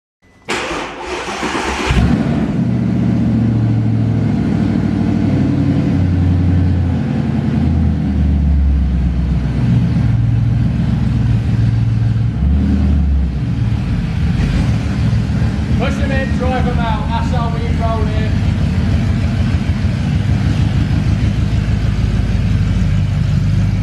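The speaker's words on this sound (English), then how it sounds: "I have managed to actually drive the R8, albeit just out the workshop" Rebuilt Audi R8 engine starting and idling, then driven slowly out of a workshop: a close, loud, continuous low engine drone after a brief start-up burst, with a person talking over it.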